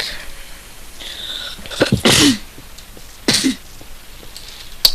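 A person nearby gives one loud, sharp sneeze, and a second, shorter burst follows about a second later. Both stand out clearly over a quiet room.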